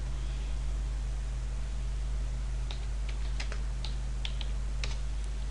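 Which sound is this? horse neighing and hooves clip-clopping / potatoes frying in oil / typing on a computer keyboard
typing on a computer keyboard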